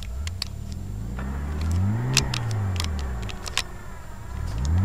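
A stuck car's engine revs up and down repeatedly while its wheels dig in, loud and close, with rising and falling pitch and scattered clicks and scrapes.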